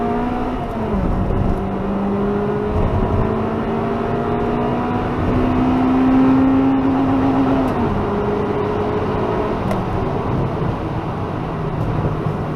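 A car engine revs hard on the road, climbing in pitch as VTEC engages, with a long rising whine that peaks and then drops away between gear changes, loud and steady throughout.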